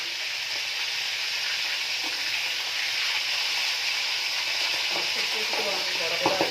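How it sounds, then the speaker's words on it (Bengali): Large tangra fish fry in hot oil with a steady, loud hiss and sizzle, and sharper spitting pops grow more frequent toward the end. "এবারে মাছগুলো ভেজে নিই।"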